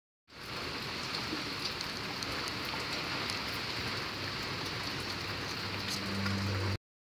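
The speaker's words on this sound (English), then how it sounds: "it's still raining outside" Heavy rain falls outside amid strong wind, a dense steady hiss of drops on surfaces that holds evenly throughout and then cuts off abruptly.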